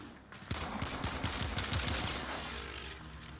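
Rapid bursts of gunfire from a blast-damage gun in the video game Warframe, a quick string of sharp repeated shots followed by a fading, reverberant tail.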